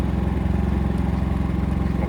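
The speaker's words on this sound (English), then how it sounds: "You can definitely hear it, but it's not annoying, I would say." A Predator 3500 portable generator runs steadily at a constant idle, a continuous mid-low drone with a faint rhythmic pulsing, fairly close and unbroken.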